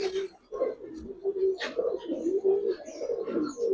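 Giribaz highflyer pigeons, including two females, coo in low throaty murmurs that run continuously nearby at modest volume, with no voices over them.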